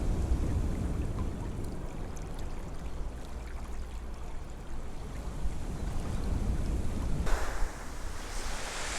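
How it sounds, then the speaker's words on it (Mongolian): Ocean waves at the sea roll in as a continuous broadband wash with wind buffeting the microphone and a brighter surge of surf near the end. "Та нар далайн чимээг сонсоод гоё"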